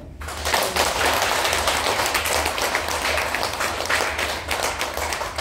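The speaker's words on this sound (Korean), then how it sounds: "믿어지는 박수." Sustained audience applause at a Korean health seminar, with dense, steady clapping from many hands that holds for the whole stretch without letting up.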